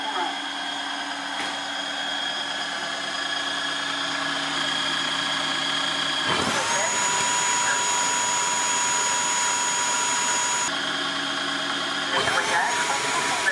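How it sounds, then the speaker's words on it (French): A Dreame H11 Max cordless wet-dry floor washer runs its self-cleaning cycle on the roller brush, a steady loud motor whine and water-pumping hum with a sharp pitch rise partway through, while a recorded voice prompt speaks over it. "Nettoyage de la brosse à rouleau."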